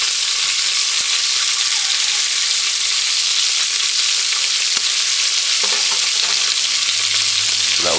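Pork chops browning in a pan over a stove set to high heat give a loud, steady frying hiss that runs unbroken, with a low hum creeping in near the end and no voices.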